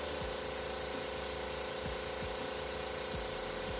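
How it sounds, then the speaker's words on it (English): An airbrush spraying alcohol ink gives a steady, close, continuous airy hiss with no breaks, over a low hum and a few faint knocks. "I'm not moving the airbrush until it starts drying closest to the tip"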